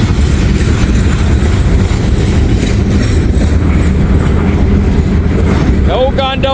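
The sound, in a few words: old gondola train rolling on rails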